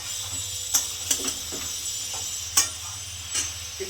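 Kohlrabi curry seasoned with salt, turmeric and sugar being stirred in a pan gives a steady soft sizzle, with several sharp scraping clicks of the spoon against the pan spaced through it.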